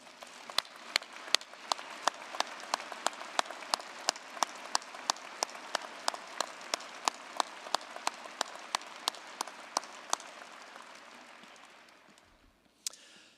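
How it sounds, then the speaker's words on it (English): Audience at an outdoor Remembrance Day ceremony in Saskatoon gives a long round of applause, steady and fairly distant, with a few sharp nearby claps standing out. It fades out gradually over about twelve seconds. "please acknowledge them with your generous applause"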